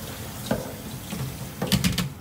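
Cold water splashing and trickling from a tap onto kale in a sink, with a few louder bursts of spray near the end, close by.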